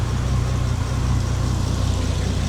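A Bentley engine idles steadily nearby after a restart, amid multiple faults, with a low, even rumble and faint mechanical ticking, no voices.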